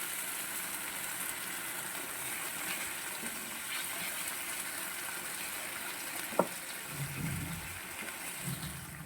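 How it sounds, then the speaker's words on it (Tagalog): Water poured into a pan of simmering chicken bola bola sauce with ketchup, a steady wet hiss and gush of liquid throughout, close and moderately quiet, with a brief sharp clink midway and no talking. "Tapos lagyan natin ng tubig."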